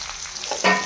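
Mustard greens tipped into a hot pan of browned garlic: a light sizzle that swells suddenly into a loud, bright frying hiss as the leaves hit the oil, close and with no talking.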